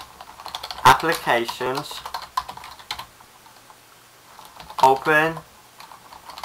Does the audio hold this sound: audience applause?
no